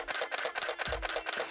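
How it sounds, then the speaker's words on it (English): A Canon 6D DSLR shutter in normal mode clicks about eight times in a steady rapid series, each a sharp mechanical snap heard close up with nothing else around. "This is how the camera sounds and the regular noise."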